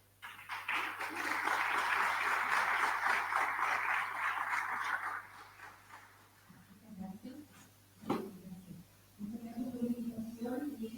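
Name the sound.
applause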